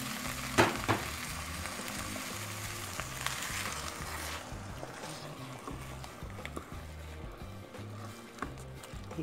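Salsa for pork tinga poblana sizzles and bubbles steadily in a pan, a continuous close frying hiss with occasional soft stirring knocks and no talk.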